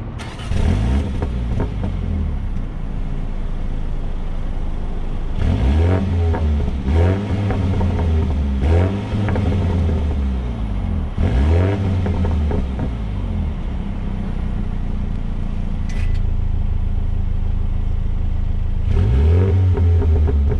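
A 2019 Mini John Cooper Works Clubman engine revs repeatedly, rising and falling in about half a dozen loud bursts with crackling between them, recorded up close with no talk.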